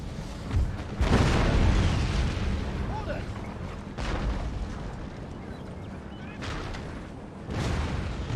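Round shot artillery fires in Napoleon: Total War, with several heavy booms in succession, each a loud burst that rolls off into rumbling decay, and the loudest one early on.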